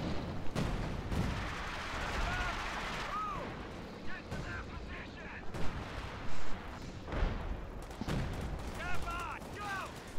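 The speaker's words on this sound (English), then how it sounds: "What is that? Curving rockets?" Rocket barrages and artillery fire in a Company of Heroes 4v4 match, with repeated booming blasts and crackling gunfire over a dense battle din while a player talks throughout.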